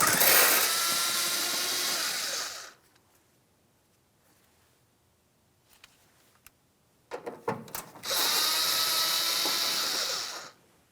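Splash guard fasteners on a 2007-2014 GMC Sierra 2500 HD being removed with a 7mm power tool, two loud sustained whirring bursts separated by quiet handling clicks and clatter, close up with no talk.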